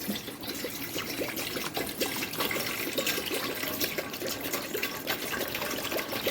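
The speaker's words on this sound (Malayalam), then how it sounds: "ഈ ചട്ടിയിൽ വെള്ളം ഒഴിക്കാം" Water pours steadily into a cooking pot for bilimbi curry, a continuous splashing trickle close by with no talking.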